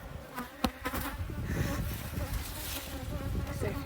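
Honey bees buzz densely around a newly installed queen in a backyard hive in North Port, Florida, a close, continuous swarming drone with individual bees passing near, and brief speech in the background.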